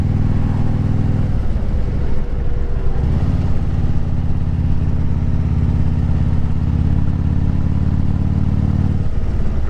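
2010 Harley-Davidson Street Glide Ultra on the road, its engine a loud, steady low rumble that dips briefly as gears change, then settles back into a continuous throb, no talking.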